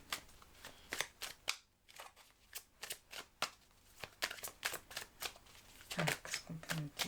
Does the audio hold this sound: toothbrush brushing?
no